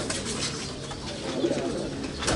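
Pigeons or doves cooing outdoors, steady soft calls over a constant background hum with no speech.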